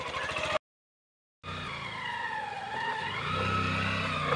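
A motorbike labours up a steep mountain road near Palpa, its engine droning steadily and rising in pitch after a brief dropout, loud and close with rough low rumble throughout.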